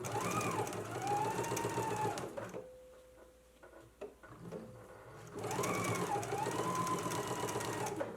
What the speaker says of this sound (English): now let's go to the sewing machine. We're going to do a stitch in the ditch